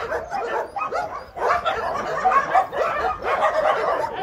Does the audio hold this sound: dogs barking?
yes